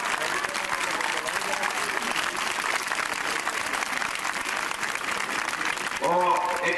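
Warm applause from a large crowd at an outdoor gathering on Pedion tou Areos in Athens, sustained dense clapping that continues for several seconds, with a voice briefly rising over it near the end.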